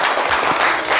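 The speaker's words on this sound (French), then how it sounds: "Les gars, applaudissez pour lui." Audience applause for a volunteer brought up from the crowd at a live show, a brief, steady burst of many hands clapping close by.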